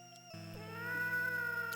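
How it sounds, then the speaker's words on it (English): A whining, moaning cry like an injured cat in the video game Dead of the Brain, a single drawn-out wavering wail lasting under two seconds, clear and alone. "Or like a whining, like a cat or something."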